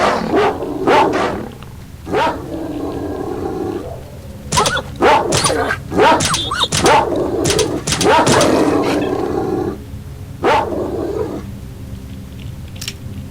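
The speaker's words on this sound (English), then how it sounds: "got attacked by a couple wild dogs there" Wild dogs barking, snarling and attacking in the video game S.T.A.L.K.E.R. Shadow of Chernobyl, a burst of loud, close, overlapping animal cries and yelps that come in clusters, with game sounds underneath.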